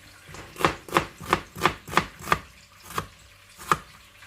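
A knife chops an onion into large pieces on a cutting board, giving about nine crisp, evenly spaced thuds that fall in a steady rhythm, close and clear with no talking.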